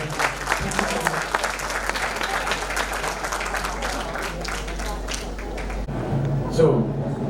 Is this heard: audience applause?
yes